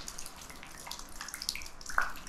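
Water from a leak drips in a house, a few soft drops and trickles at close range over quiet background hiss.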